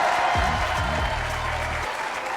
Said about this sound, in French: Sous un tonnerre d'applaudissements.